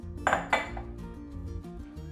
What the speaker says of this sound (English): Give it a little mix.